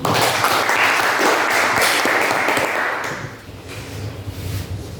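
Students in an automotive class applaud a classmate, a loud burst of clapping that fades after a few seconds into lighter scattered claps and room noise.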